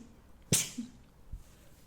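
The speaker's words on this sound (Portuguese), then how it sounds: "Desculpe, espirros." A single sharp sneeze bursts out once, close and brief, in an otherwise quiet room, followed by a faint breath.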